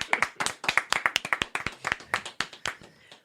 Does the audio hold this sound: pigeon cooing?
no